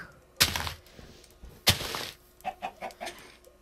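Minecraft chickens cluck in a game, with two sharp thunking hits followed by a short run of quick, mid-loud clucks near the end, with no talking.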